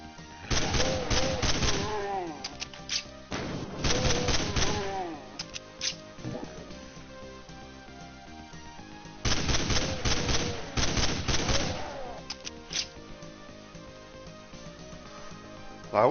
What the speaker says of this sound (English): the Winchester is what's called is the name of the shotgun